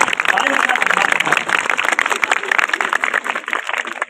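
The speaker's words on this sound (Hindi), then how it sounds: "ताली जोर से बजाइए" Audience applause at a school science quiz contest, a dense, steady wash of clapping lasting throughout with crowd noise and voices mixed in.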